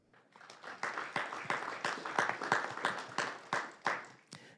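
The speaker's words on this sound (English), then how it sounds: "So please join me in a round of applause, first for Protectotherm," Small audience at a city council meeting gives a round of applause, sparse, distinct hand claps in an uneven rhythm, fairly close and quiet.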